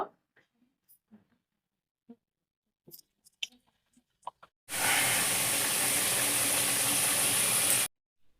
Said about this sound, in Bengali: এখানে আমি কিছুটা আলু কেটে রেখেছি মাংসতে দেওয়ার জন্য আলুটাকে ভেজে নেব